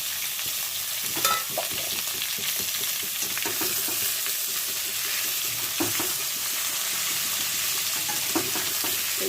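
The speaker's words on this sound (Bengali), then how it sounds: "একটু ভাজা ভাজা করে নিই।" Cut potatoes, tomatoes and capsicum frying in a pan for a capsicum fish curry, a continuous close sizzle with occasional stirring scrapes and clicks throughout, no voices.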